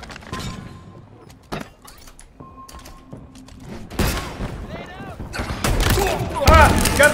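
Shotgun blasts in Halo Infinite multiplayer, with sharp bursts of fire and impact noise clustering loudly in the second half amid a busy match mix of effects and beeping tones.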